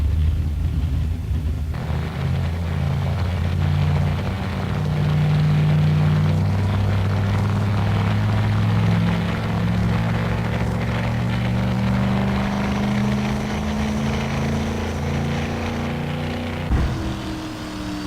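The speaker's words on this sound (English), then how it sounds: "the great thing about starting the engines is the noise. There's nothing like it, and frankly, it sounds like a drag racer" Jet engines of a Lockheed SR-71 Blackbird starting up, a loud, sustained low rumble with a steady droning tone that slowly rises in pitch, then shifts abruptly near the end, heard alone without talk.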